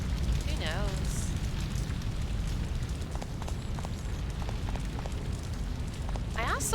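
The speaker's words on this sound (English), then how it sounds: "Heat of the fire's too great, it's too dangerous." A building burns in the video game Shadow of Destiny, a steady roaring rush of flames with low rumbling, present throughout with brief voice-like sounds over it.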